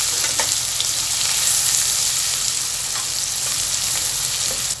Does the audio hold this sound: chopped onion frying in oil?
yes